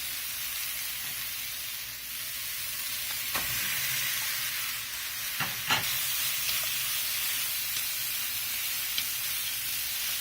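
Ramen noodles with vegetables and meat for a sriracha peanut dish being stir-fried in a hot pan: continuous loud, close sizzling, with a few scraping stir strokes and no talking.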